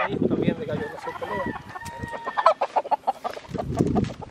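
A tall fighting rooster crows loudly and close, its drawn-out call followed by choppy clucking bursts, with people talking nearby.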